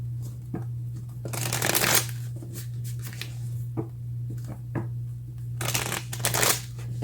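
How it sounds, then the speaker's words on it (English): A tarot deck is shuffled by hand close up in repeated riffling bursts separated by brief pauses, with a steady low electrical hum beneath. "Let's get some cards from the universe to see what they would like to share."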